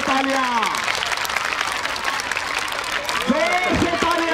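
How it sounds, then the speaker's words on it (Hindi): A crowd applauds at a school annual sports day with steady, dense clapping throughout, while an amplified voice talks over it. "जोरदार तालियां बजाओ, तालियां तालियां और जोर से तालियां"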